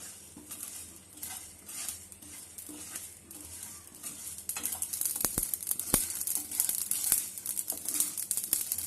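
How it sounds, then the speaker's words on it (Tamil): Seeds crackle and pop in a hot pan while making lemon pickle, with a steady sizzle and a few sharp louder snaps growing busier toward the end. "படப்படன்னு வெடிக்குது பாருங்க."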